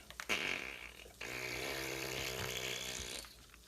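A quiet fart sound effect begins with a few short sputters, then stretches into a long, buzzy, rumbling blast of about two seconds before it cuts off.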